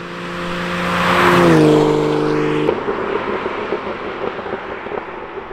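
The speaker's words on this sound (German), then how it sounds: "Der Motor hier hat dafür ein bisschen einen tieferen Klang, ein bisschen einen ernsteren Klang." A Sportec 993 RBS restomod sweeps past with a deep, serious engine note that swells to a peak as it nears, drops in pitch on passing, then fades into tire and road noise, with no voices.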